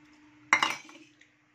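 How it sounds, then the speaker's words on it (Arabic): A spoon drops homemade ghee (samna baladi) into a bowl of kahk dough, making one quiet metal clink followed by a brief rattle, then near silence with a faint hum. "اهم حاجه هنزل بمعلقتين سمنه بلدي"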